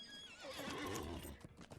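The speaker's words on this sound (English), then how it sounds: "We'll jump on our horse and head out." Horse whinny from Lord of the Rings Online, a loud close neigh rising and falling over hoof clip-clops that continue briefly after it fades.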